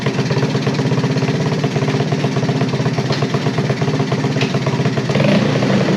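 A 1978 Honda ATC 90 three-wheeler with a slipping clutch runs in gear under load, a loud, close, steady single-cylinder putter with a rapid even pulse throughout.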